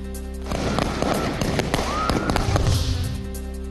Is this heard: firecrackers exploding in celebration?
yes